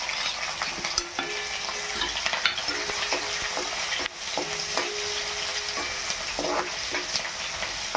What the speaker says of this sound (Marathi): मिरच्या तळून द्यायच्या.